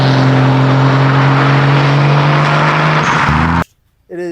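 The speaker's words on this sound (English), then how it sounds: "So this is the '87 Supra turbocharged. It is not a 2JZ." Turbocharged 1987 Toyota Supra with its 7M engine, running at a loud, steady, droning idle close by before cutting off abruptly, followed by a brief pause and a short low rumble.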